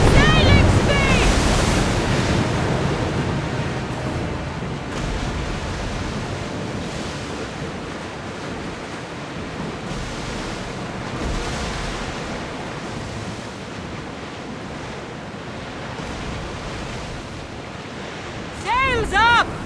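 Ship sailing across sea waves in Assassin's Creed Odyssey, with a steady broad wash of surf and wind rushing throughout and brief tonal chirps at the start and near the end.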